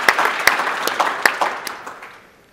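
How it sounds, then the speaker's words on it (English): A conference keynote audience applauds the faculty, a dense burst of clapping with a few sharp peaks that fades out over about two seconds. "Can we give them a round of applause, please?"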